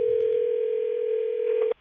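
A steady telephone dial tone holds loud and even for nearly two seconds, then cuts off abruptly as a prank call begins.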